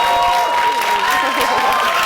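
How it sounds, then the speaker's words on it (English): A studio audience on a dating game show applauds the second couple, the clapping and some crowd noise continuous and fairly loud throughout, with a faint tone running underneath. "Give them a nice round of applause."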